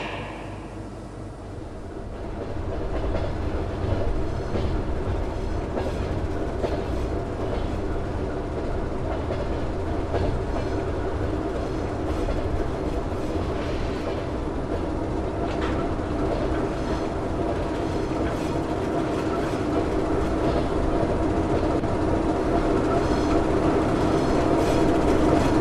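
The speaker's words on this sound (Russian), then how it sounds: "Premium train 19 from Ростов-на-Дону to Moscow has arrived at track 1." A video game train in Trainz 22 arrives at Moscow's Kazansky station, rumbling steadily and loudly, with a continuous low roar and faint rhythmic clatter of wheels on track, no voices heard.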